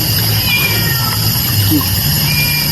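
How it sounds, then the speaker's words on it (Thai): A cat meows close and fairly loud over a steady background hum, with a faint voice in the mix. "แมว"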